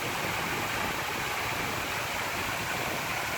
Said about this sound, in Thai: หรือว่าน้ำตกนั่นเอง